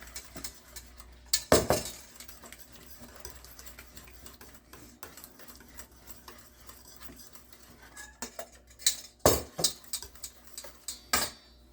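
A utensil stirs banana bread batter with applesauce in a bowl, giving repeated scraping and clinking strokes against the bowl, with a few loud knocks and a busier burst of clatter near the end.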